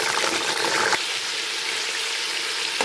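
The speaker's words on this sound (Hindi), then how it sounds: "अब हम चिकन डालेंगे" Chicken pieces go into half a cup of hot spice-flavoured oil for a degi-style shahi chicken korma, a sharp burst of loud hissing sizzle that drops after about a second to a steady, softer frying crackle.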